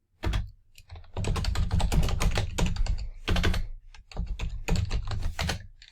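Steady computer keyboard typing fills the clip, dense runs of close, crisp key clicks with brief pauses, heard alone without any talk, during work on a book layout in InDesign.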